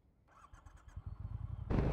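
A 2016 Triumph Bonneville T120 motorcycle being started at a beach stop: a short starter whir and crank, then the engine catches and fires into a loud, close idle in the last moments.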